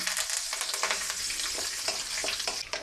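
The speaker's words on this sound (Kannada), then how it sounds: "ಸಾಸಿವೆ ಹೊಡ್ತಾ ಇದೆ" Mustard seeds splutter and crackle in hot oil with chana dal, urad dal and curry leaves for a tempering, a dense, steady close-up sizzle with sharp pops throughout and no voices.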